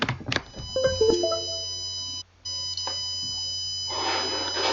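A steady electronic buzzer tone from a laser security system project holds at a fixed pitch, briefly cutting out once, with some clicks and rustling around it.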